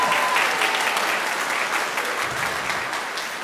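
Steady, dense applause from an audience cheering kindergartners on stage at an elementary school celebration, a continuous wash of many hands clapping that fades slightly toward the end.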